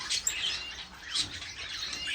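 Pet finches chirping softly in a home aviary, a few quick high tweets with faint rustling and wing flutters, fairly quiet and close.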